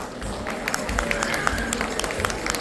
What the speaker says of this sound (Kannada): ಸೊ ಮತ್ತೊಮ್ಮೆ ಜೋರಾದ ಚಪ್ಪಾಳೆ